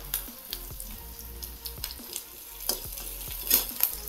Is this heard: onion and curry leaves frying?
yes